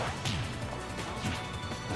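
An up smash hit lands in Super Smash Bros. 4, Yoshi against Rosalina, a loud crash of impact sounds over dense, continuous game audio and crowd noise.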